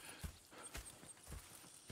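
Horse hooves clip-clopping in Red Dead Redemption 2, a loose, uneven walking rhythm of soft thuds over a low ambient bed, with no talk.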